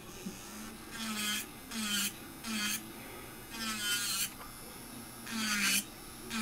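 An electric nail drill bit grinds down nails in short bursts, about five high-pitched whirring passes separated by brief pauses over a steady low motor hum, close and moderately loud with no talking.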